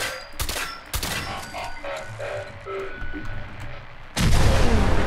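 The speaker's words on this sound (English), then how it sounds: "Oh, jeez, that's a big explosion." Loud booming blasts and gunfire from a big explosion in the Fallout 4 video game, with a sharp burst near the start and a heavy, sustained roar of explosive noise at the end.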